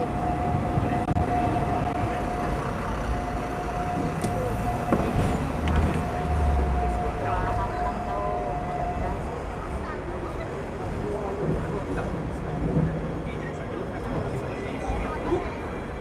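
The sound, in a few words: tram riding through Hong Kong streets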